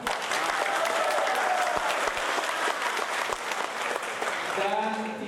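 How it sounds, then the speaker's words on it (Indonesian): Steady audience applause fills the hall at a debate between regency head candidates for Aceh Selatan, dense and sustained with a few voices mixed in. "Sekarang saya minta untuk tepuk tangan."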